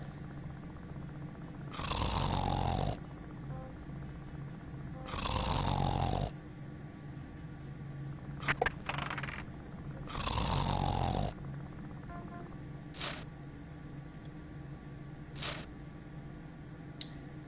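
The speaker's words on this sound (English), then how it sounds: "He snores in response." A character in the video game The Dagger of Amon Ra snores three times in slow, evenly spaced breaths, each one a rasping rumble with a falling whistle. Faint clicks and small squishy sounds come in between.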